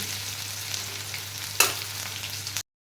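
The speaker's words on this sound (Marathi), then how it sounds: "त्यानंतर आता हा लसूण आपल्याला तांबूस रंगावर भाजून घ्यायचा आहे" Crushed garlic frying in a pan until reddish, a steady close sizzle running throughout with one brief clatter of a spoon midway, no voices.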